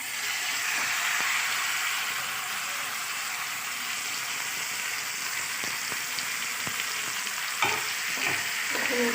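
Marinated chicken frying with onions in a hot pan, a bright continuous sizzle with scattered crackles and a few stirring scrapes near the end, close and alone.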